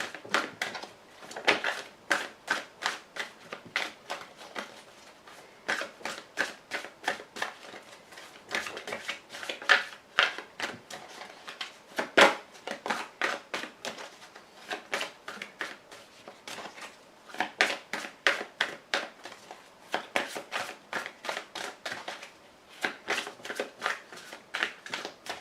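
Tarot cards are cut and riffled in a quiet room, giving repeated dense bursts of crisp flapping and snapping with short pauses between them. The sound is near and moderately loud, with no talking.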